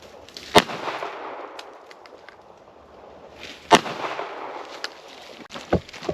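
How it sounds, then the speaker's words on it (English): Ruger LCP pistol shots fired at a TV, three sharp loud cracks spaced a few seconds apart, each with a short echoing tail, against quiet outdoor background. "I'm gonna shoot the top left of that TV there."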